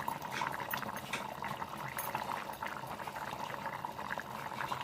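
A pot of mutton curry bubbles and pops steadily at close range, a continuous simmering crackle with no pauses.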